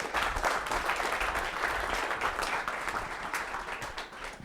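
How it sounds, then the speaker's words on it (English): Audience at a digital growth summit applauding the expert panelists, a dense, steady round of clapping from a moderate-sized crowd that fades slightly at the end. "I want to give a big round of applause for our expert panelists here"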